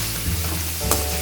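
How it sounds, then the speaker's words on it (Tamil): Onion and tomato paste frying in oil in a pan for mutton kothu parotta, a steady close sizzle with a brief stirring scrape partway through. "நல்லா எண்ணெயில் ஃபுல்லாக நல்லா வதக்கிடுங்க"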